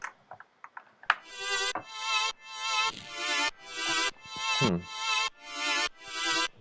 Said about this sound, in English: what you're hearing there is just a sequence that I already had programmed into the Volca here